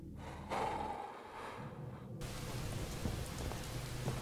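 Steady rain ambience from the Fallout 4 video game, a continuous broadband patter that fills the clip at a moderate, even level with no talk over it.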